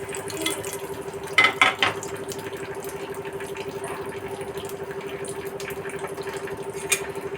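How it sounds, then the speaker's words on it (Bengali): Panch phoron, a Bengali five-spice mix, frying in hot oil while being stirred, a soft sizzle under a steady hum, with a brief cluster of spoon clatters against the pan near the start. "এইভাবে নেড়ে আমি ভেজে নিচ্ছি, যাতে পুড়ে না যায়।"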